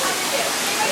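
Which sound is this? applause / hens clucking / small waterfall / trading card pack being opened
small waterfall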